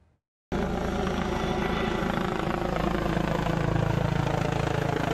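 A police search helicopter's steady rotor thrum and engine roar starts abruptly after a brief silence, loud and continuous throughout.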